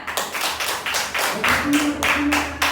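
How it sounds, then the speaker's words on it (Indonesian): A classroom group clapping in a quick series of hand claps, fairly close, with voices briefly calling out over the claps. "Tepuk tangan."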